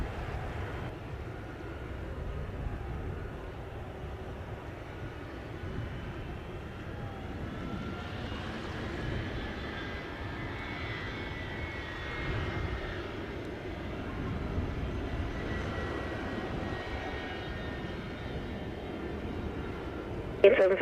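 An airplane near an airport in Jamaica during thunderstorm weather: a faint, distant engine roar that builds through the middle and fades again, over a low steady background with quiet voices.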